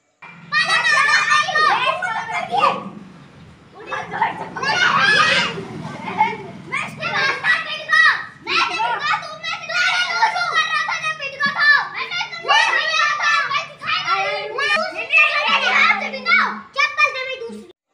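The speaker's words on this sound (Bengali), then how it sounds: "এদিকে বাচ্চা কাচ্চা দেখো খেলা করছে আর কি জোরে জোরে চেঁচাচ্ছে" Children playing outdoors after rain, loud shouting and excited chatter from several kids close by, continuous and lively throughout.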